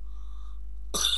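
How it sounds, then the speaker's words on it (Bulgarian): A single short cough from a commentator during a PES 2012 Champions League match broadcast between CSKA Moscow and Real Madrid, abrupt and close at the very end after near silence. "Извинявам се, че кашля"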